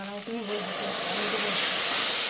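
Poppy seed paste hitting hot mustard oil in a pan with drumstick flowers, a loud steady sizzle and hiss that swells after a brief voice at the start.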